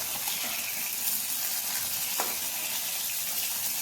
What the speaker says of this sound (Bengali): দু পিঠ উল্টে পাল্টে বেশ হালকা করে ভেজে নিচ্ছি।